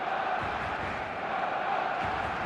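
A stadium crowd roars steadily in the eFootball video game ahead of kickoff, a dense, continuous wash of cheering with no pauses.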